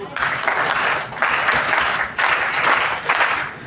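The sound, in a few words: audience rhythmic clapping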